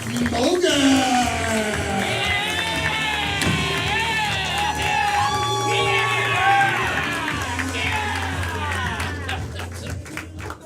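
A comedy club audience cheers, whoops and applauds as the host takes the stage, a dense, loud, sustained crowd roar with high shouts and whistles throughout.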